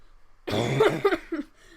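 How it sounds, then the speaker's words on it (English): A single person lets out a short, close burst of coughing, a few rough hacks fading into quieter throat sounds after a quiet start. "as I start coughing"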